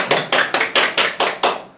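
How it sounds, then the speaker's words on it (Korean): Seven crisp hand claps in an even rhythm, close and fairly loud with short gaps between them, from a single person at a Korean insurance program recording. "박수 쳐줘야 될 것 같아."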